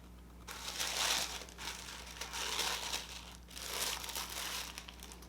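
Tissue paper from a Birchbox subscription box crinkles and rustles in repeated bursts close by, swelling and easing over several seconds with no talk.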